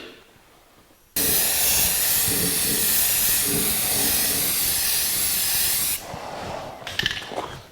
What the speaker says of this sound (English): 3 more coats of that self-etching primer and we'll be ready